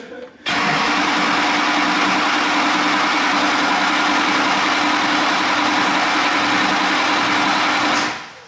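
An old tow truck engine, which smokes a little, turns over and runs loud and steady for about eight seconds before cutting off abruptly.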